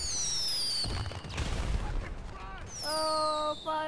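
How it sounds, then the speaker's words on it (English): Fourth of July fireworks set off outdoors, with booming bursts and crackling in the middle, while whistling, rising tones come before and after the explosions. "Oh, fireworks special."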